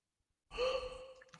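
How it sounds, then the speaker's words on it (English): A soft, breathy sample like someone exhaling, used as a sound in a hip-hop beat, enters after a brief silence with a sighing, airy tone and trails off; no one speaks. "I put this little sound that I like. It's kind of like someone breathing."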